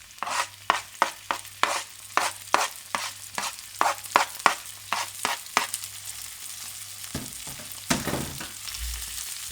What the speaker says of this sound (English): Sizzle, sizzle, deliciousness.